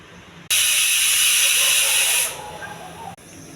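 A pressure cooker of dal and spinach on a stove lets out a loud burst of hissing steam lasting about two seconds, then drops back to a quieter background.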